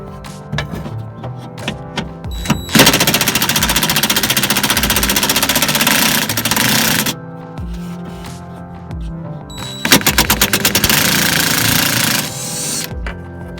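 Power tool driving out the bolts that hold a Honda Civic window to its manual regulator, two long loud buzzing runs with rattling bursts, separated by quieter clicks and handling noise.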